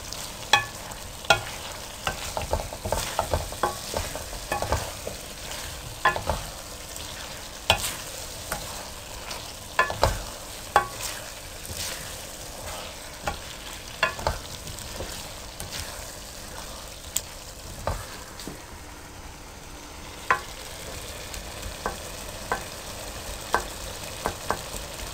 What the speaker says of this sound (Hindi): आलू जो है को अच्छी तरह से मिक्स करें और 5 मिनट के लिए मज़ीद भूनें।